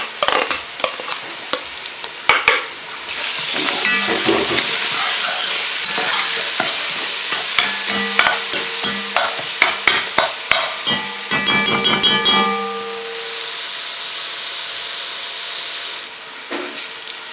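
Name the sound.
garlic, chili and ginger frying in a pan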